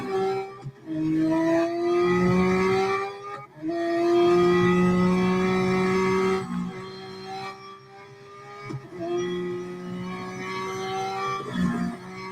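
Race car engine in the Real Racing 3 mobile game on a final lap, a loud engine pitch climbing steadily through each gear, then dropping sharply at each shift, repeating in long rising sweeps with brief lulls between.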